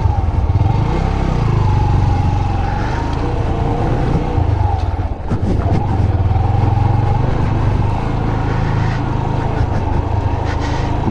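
A Yamaha YBR125 motorcycle with 1500 km on it rides through Vladivostok in the evening, its small single-cylinder engine droning steadily and loud up close, with changing pitch and rushing wind throughout.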